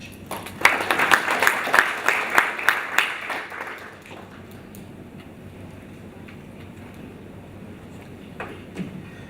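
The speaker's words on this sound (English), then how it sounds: "Can we give him another round of applause?" Audience members at an opening-day session of an African school on decentralisation clap for around four seconds, with distinct individual claps audible. The applause then fades into quiet room tone with a few stray sounds.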